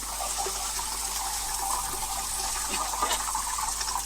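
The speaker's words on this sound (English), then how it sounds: "Oh, it's water going down in the oil pan." Water hissing and sizzling steadily against the red-hot bottom of the oil pan on a 1969 Ford F250 truck engine, a continuous close bubbling wash with a few brief pops, no talk.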